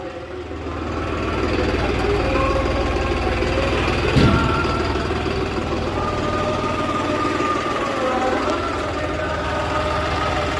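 A New Holland 6510 Excel tractor's diesel engine runs steadily as the tractor is driven onto a weighing scale, a loud, close, continuous mid-pitched drone with a brief knock or thump near the middle.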